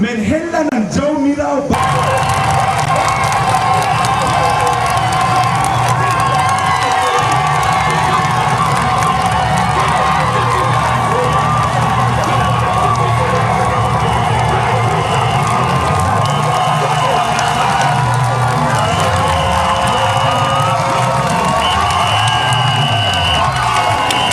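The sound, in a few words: congregation cheering and acclaiming continuously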